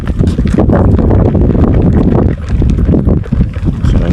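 Cold wind gusting across an outdoor microphone while a family heads to a child's school performance, a loud, continuous rumbling buffet that swells and dips with each gust and has no voices.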